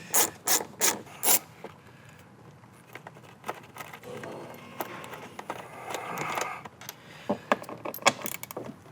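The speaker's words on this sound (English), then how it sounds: "And we have two 10mm bolts right in there. Now, if you're using a ratchet like I am" A hand ratchet loosening two 10mm bolts of a shark fin roof antenna on a 2014-2019 Silverado, with a quick run of sharp clicks up front, then softer rubbing and scattered ticks close by.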